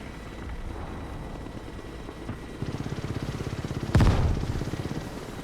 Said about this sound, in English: They have multiple helicopters.